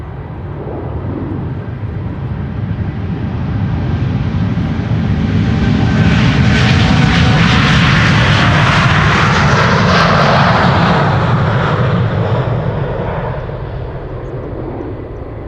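A KLM Boeing 787-9 Dreamliner jet climbs away from Schiphol Airport on a flight to Bogota, its engine roar swelling loud and broad to a peak mid-pass and then easing off slowly, with no voices.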